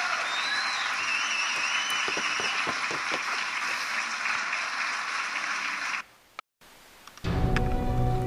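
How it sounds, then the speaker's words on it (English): Video game crowd applause rings out as steady, even clapping for about six seconds, then cuts off abruptly and gives way to a different background sound. "please give a round of applause for Megan Kelly."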